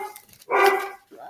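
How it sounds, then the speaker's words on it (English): A dog gives a single close, loud bark in a home, preceded and followed by softer whimpering yips, all within about a second. "Excuse my barking dogs."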